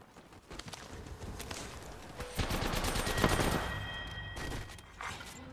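Rapid bursts of automatic gunfire crackle through an Apex Legends firefight, dense volleys of shots building to a louder stretch in the middle before thinning out.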